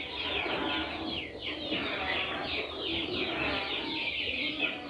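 Layer chicken chicks kept on a rooftop chirp and peep continuously in a dense, overlapping chorus, close and fairly loud with no pauses.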